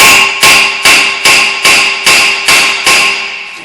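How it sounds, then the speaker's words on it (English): Eight sharp metallic hammer blows ring out at an even rhythm on the face of a stuck brake rotor on a 2012–2016 Audi Q5, each strike loud and close with a short ringing decay. "What we can do is if you hit the face of the rotor here, usually it pops off."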